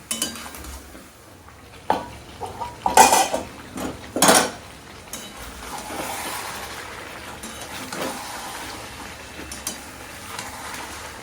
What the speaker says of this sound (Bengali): এটাকে এবার ভালো করে কষিয়ে নেব